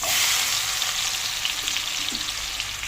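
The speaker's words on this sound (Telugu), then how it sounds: "ఇదిగోండి, ఉల్లిపాయలు వేగిపోయినాయి బాగానా" Onion pieces with green chillies frying in a pan for a chicken and egg curry, a loud continuous close sizzle with faint stirring, no voices.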